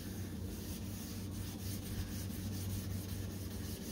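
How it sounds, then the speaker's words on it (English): Close, steady rubbing rasp of sandpaper worked across a plastic car headlight, a continuous scratchy texture with faint rhythmic strokes. "I think sanding on each headlight probably takes you maybe 5-10 minutes"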